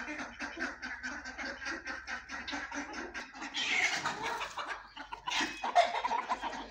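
Backyard chickens cluck and call after being let out of their pen, heard close and moderately loud, with a rhythmic run of clucks followed by louder squawky bursts; ducks and partridges are also kept there.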